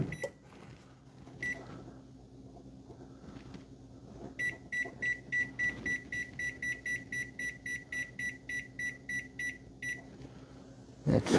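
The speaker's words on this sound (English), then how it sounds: "Set the timer for 20 minutes." A powder coating oven's timer panel being set for twenty minutes: a few isolated button beeps, then a long run of rapid, evenly spaced electronic beeps, close and clear, over a low background hum.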